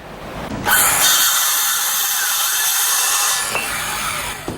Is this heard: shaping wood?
yes